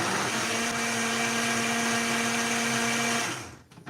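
An electric blender froths a milkshake with a loud, steady whirring drone that runs for about three seconds before cutting off and spinning down.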